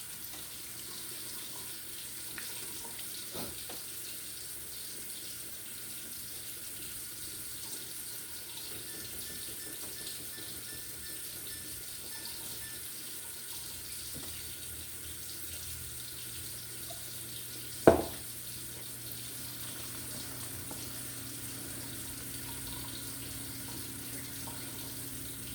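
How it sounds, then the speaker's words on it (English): Kitchen tap water runs into flour in a mixing bowl, a steady soft hiss throughout with one brief clunk partway through. "I'm going to go ahead and start putting my water in it."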